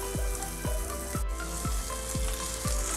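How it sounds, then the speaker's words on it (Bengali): Rohu fish frying in a pan, a loud steady sizzle close by with a regular series of soft scraping strokes about twice a second, no voices. "মাছটা আমি ভেজে নিচ্ছি।"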